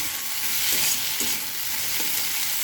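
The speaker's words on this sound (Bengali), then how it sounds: "এবার দেওয়ার পর একটু নেড়ে নেব।" Fried bitter gourd and beans being stirred in a pan, a steady bright sizzle with soft scraping strokes of the spatula recurring every half second or so, close and continuous with no voices.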